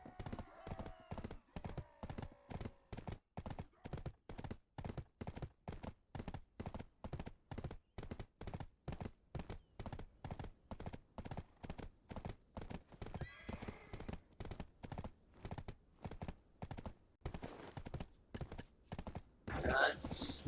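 Hooves of a horse galloping in the online game Black Desert Online, a steady rapid clip-clop rhythm repeating for the whole stretch, with a faint whinny near the start and a louder burst at the end.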